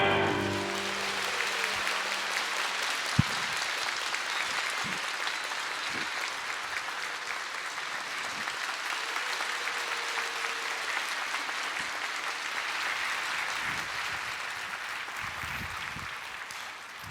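Audience applause following a choir's gospel performance at a church service, a sustained dense wash of clapping that holds steady throughout and tapers slightly at the end, with no voices.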